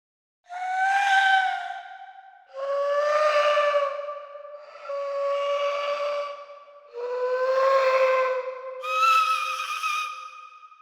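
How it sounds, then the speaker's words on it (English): Five separate sampled death whistle blasts sound as loud, breathy, siren-like tones, each falling in pitch as it fades, with brief gaps between them and the last one higher. "Death whistle effects number 2."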